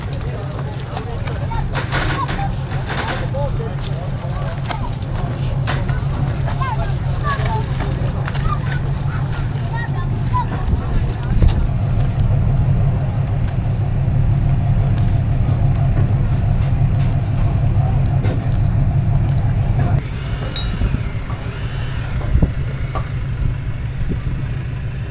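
A car ferry in Croatia pulls away, its engines and propeller churn forming a steady low rumble that holds throughout, with a brief shift near the end; no speech is heard.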